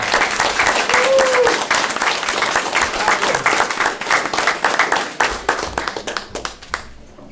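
A round of applause fills a school committee meeting room, dense clapping from the gathered crowd that thins into scattered claps before fading out, with a voice briefly heard over it.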